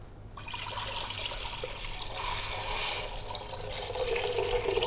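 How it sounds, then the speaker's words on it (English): Water pours into a cooking pan for Scotch broth, a steady, faint rushing stream with a brief swell partway through. "So this is going into a pan with 2 litres of water."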